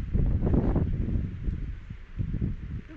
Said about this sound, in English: it's windy today for sure